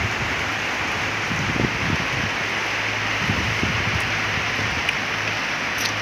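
Steady rain falling during a storm in rural Thailand, a dense, even hiss of drops on surfaces with faint low rustles and no voices.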